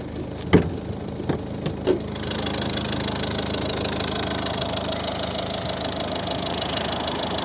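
A 2012 Volvo V50 with a 1.6 diesel engine idles steadily with the hood open, a few sharp clicks near the start giving way to an even, continuous mechanical rumble up close.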